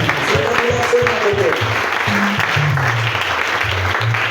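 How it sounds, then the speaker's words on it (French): A church congregation claps and cheers for the Lord, a steady, loud wash of applause filling the hall as a voice sings or calls out over it. "Est-ce qu'on peut acclamer le Seigneur?"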